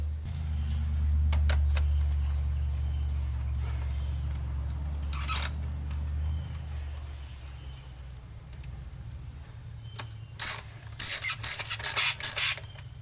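Ratchet tightening bolts back in on a 2005 Chevy Colorado during spark plug work, close quick clicking runs at first, then clustered bursts of ratcheting toward the end over a low steady hum, without talk.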